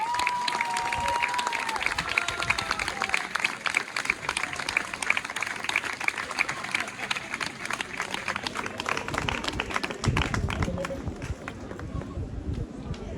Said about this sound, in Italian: Io vorrei fare davvero un applauso a Bruno Pistoni.